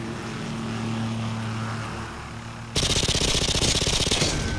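Call of Duty: Modern Warfare 2 plays a steady droning hum, then a loud, rapid burst of automatic gunfire takes over for the last couple of seconds.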